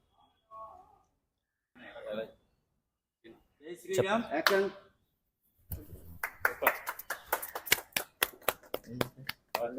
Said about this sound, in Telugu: ఈ ఫస్ట్ షాట్ని మన రాజు గారు క్లాప్ కొడతారు